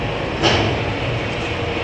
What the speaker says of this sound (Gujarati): ક્રેન ઓપરેટ કરે છે